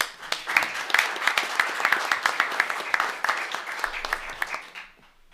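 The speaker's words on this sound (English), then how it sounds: "Let's give them a round of applause" An audience gives a round of applause at a city swearing-in ceremony, individual claps clearly distinct and steady before fading out at the end.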